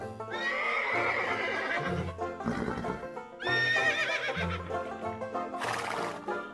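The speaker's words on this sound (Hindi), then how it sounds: "वाह कितना बढ़िया हॉर्स है ये" A red and yellow toy horse gives repeated loud electronic neighs and whinnies up close, with clip-clop hoof sounds between the calls.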